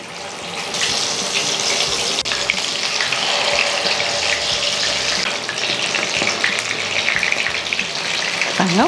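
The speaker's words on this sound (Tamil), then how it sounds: "எண்ணெய் மீடியமாக காஞ்ச உடனே நம்ம சிக்கனை போட்டுக்கலாம்" Marinated chicken pieces deep frying in hot oil for a cashew chicken fry, giving a loud, steady, dense hiss and crackle that runs almost unbroken from start to finish with no talk.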